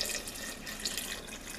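Water runs steadily from a tap into a pot of potatoes with coarse sea salt, a continuous close splashing hiss with no voices.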